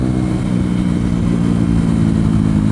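A motorcycle engine with worn piston rings revs hard and steadily near full throttle, a loud continuous droning roar held close up with no pauses.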